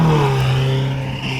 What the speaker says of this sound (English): Oh, the turbos!